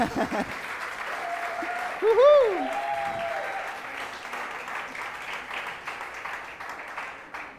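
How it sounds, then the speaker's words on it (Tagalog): Sustained applause from a church congregation, with a voice briefly cheering over the clapping as it carries on steadily. "Palakpak po para kay Jesus."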